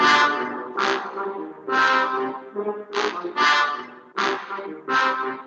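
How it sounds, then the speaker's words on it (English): A brass section of trumpets, trombones, French horns and tuba plays a series of loud, full sustained chords in short swelling phrases, each note attacked and then held. "which consists of trumpets, trombones, French horns, and tuba, and they sound like this."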